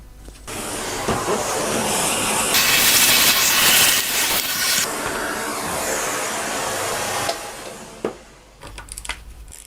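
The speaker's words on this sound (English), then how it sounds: "I'm gonna get a vacuum cleaner, clean off all the loose dirt" A vacuum cleaner clears loose dirt off the cylinder of a Kymco GY6 scooter engine during a rebuild, a steady loud airy hiss that swells in the middle and then cuts off, leaving a few faint clicks and knocks at the end.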